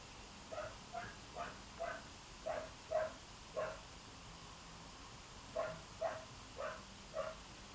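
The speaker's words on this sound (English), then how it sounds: "You can hear the dogs barking again now because the cats have just gone into the living room." Dogs bark from another room indoors, a faint, distant series of single woofs in two bursts with a short pause between.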